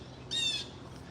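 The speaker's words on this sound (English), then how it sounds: "Hear the blue jay?" A blue jay gives a single short, harsh squawk at middle distance outdoors over quiet background ambience.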